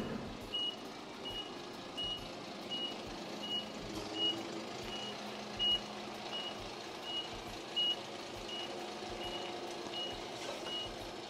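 A large UD arm-roll dump truck backs up, its reversing alarm beeping in a steady, regular rhythm over a low idling engine rumble, with no talking.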